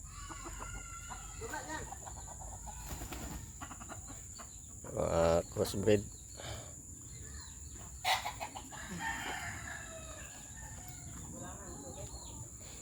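A Tagalog crossbreed rooster crows nearby, with short clucks and fowl calls around it, while someone speaks briefly over a faint background hum.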